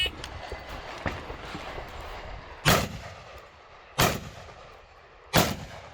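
Shotgun blasts at a multi-gun match ring out as three loud, separate booms spaced a second or so apart, each sharp and close over low outdoor background noise.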